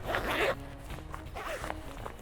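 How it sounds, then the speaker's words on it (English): A zipper on a fishing wader's front pocket pulled open in a quick, close rasp, then a second shorter zip a moment later, with faint rustling of fabric in between. "I can show you guys that zipper real quick"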